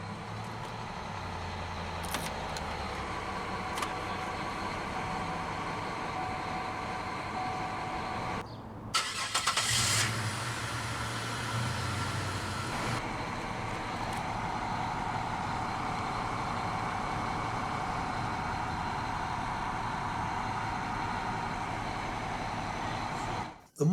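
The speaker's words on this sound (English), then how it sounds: "let's go ahead and start the engine" A 2002 Chevrolet Monte Carlo SS coupe idles steadily, then its engine cranks and catches with a brief loud roar before settling back into a smooth, even idle that runs on to the end.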